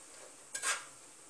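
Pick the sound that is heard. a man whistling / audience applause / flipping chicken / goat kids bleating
flipping chicken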